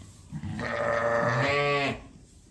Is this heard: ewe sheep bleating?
yes